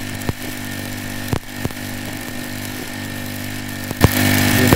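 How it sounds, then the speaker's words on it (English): A 13-horsepower engine-driven old arc welder drones steadily under load, loud and close, with a few sharp clicks and a surge in intensity near the end. "You hear the motor skinning away in the background. Load it up. You can hear it, it's really working."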